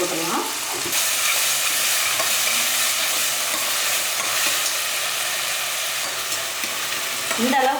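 Tomatoes and salt sautéing in a pan for a mutton kulambu, a loud, steady sizzle with stirring scrapes throughout, and a brief voice-like murmur near the end.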